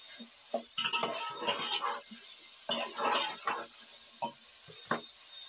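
Masala fried in a pan with whole garam masala, clattering spoon strokes and scraping knocks against the pan over a soft sizzle, irregular and close, with no voices.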